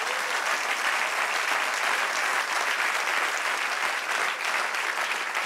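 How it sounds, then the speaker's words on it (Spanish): A church congregation applauds in praise, a dense, even wash of clapping that continues steadily for several seconds at moderate distance, with no voice over it. "Den otro aplauso al Señor"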